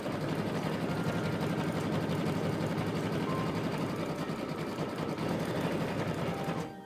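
Brother embroidery sewing machine stitching a Disney design for a purse, a steady, close mechanical whirr with rapid needle chatter that runs unbroken throughout.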